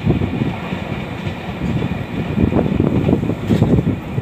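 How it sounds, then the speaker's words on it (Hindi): The Chhattisgarh Express passes at about 110 km/h with a loud, close, continuous roar and rumble of wheels and rushing air and faint rhythmic clatter, with no voices. "अभी छत्तीसगढ़ एक्सप्रेस क्रॉस हुई है"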